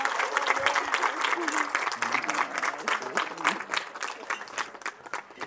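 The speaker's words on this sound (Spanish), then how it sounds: "Un fuerte aplauso." Guests at a civil wedding ceremony break into lively applause after the couple's kiss, a dense patter of clapping with a few voices calling out underneath, fading slightly toward the end.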